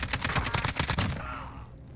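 Rapid automatic gunfire bursts in a Warzone match, a dense fusillade of sharp shots for about a second that then fades into a reverberant tail, fairly loud and close with no talking.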